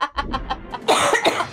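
A person coughs in a quick burst of several harsh, close coughs, loud and alone with no talking over them.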